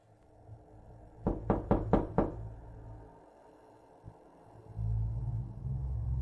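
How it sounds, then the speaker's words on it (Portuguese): Five heavy knocks on a door land in a quick, even burst, loud and close, followed by a low rumble and quiet ambience in a cartoon horror setting. "Foi quando ouvi fortes batidas na porta e uma voz assustadora soou do outro lado."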